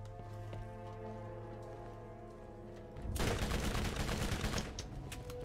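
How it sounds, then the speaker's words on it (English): Rapid gunfire in the Dr Ned video game bursts in loud and dense about halfway through, following a stretch of steady tonal game music and ambience, then keeps rattling to the end. "I'm shooting at you for going over there."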